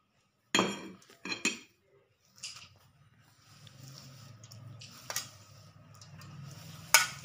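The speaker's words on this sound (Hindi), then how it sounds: "इसको अच्छी तरह मिक्स करना है" Chopped radish, coriander, chilli, onion and spices are stirred together in a bowl, with a few sharp clinks of a utensil against the dish followed by a soft, continuous scraping and mixing.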